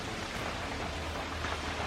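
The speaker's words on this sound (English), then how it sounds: "now it started raining" Rain falling outside during an evening grilling session, a steady, even hiss of dense drops with no other sounds.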